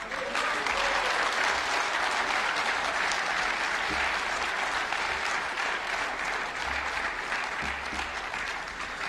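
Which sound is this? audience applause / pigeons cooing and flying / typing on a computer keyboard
audience applause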